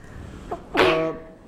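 A single person sneezing during a board of commissioners work session, a soft intake then one sharp, loud sneeze burst that trails off quickly in a quiet room.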